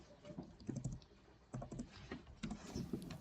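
Steady keystrokes on a computer keyboard as a name is entered for a new emulated Windows 98 machine, clicking in quick bursts separated by short pauses, close and fairly quiet with no voices.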